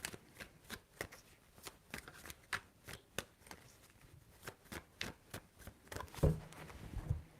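Tarot cards being shuffled in quick repeated riffles, a steady soft flutter close by, ending with a couple of light taps.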